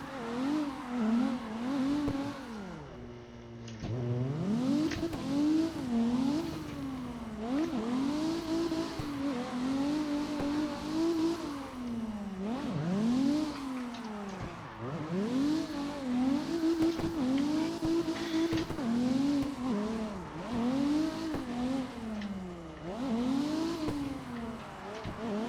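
Simulated BMW E36 drift car in CarX Drift Online, its engine revving up and down in a rapid wavering rhythm with tire squeal, continuous and fairly loud for the whole stretch.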